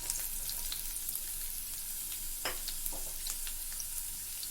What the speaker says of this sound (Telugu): ఆనియన్ వేసి ఇది కూడా ఫ్రై చేసుకుందాం.